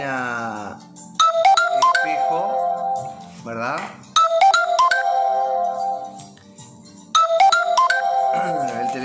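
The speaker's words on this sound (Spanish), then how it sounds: "El teléfono que nos está llamando en este momento" A telephone ringtone plays repeatedly during a live radio program, a bright melodic ringing pattern recurring in three bursts, with voices speaking between and under the rings.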